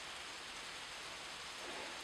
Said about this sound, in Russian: Начинается дождик